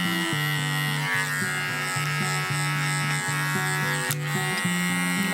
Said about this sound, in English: Clean the line on the facial line and leading only on the tip of my clipper blade.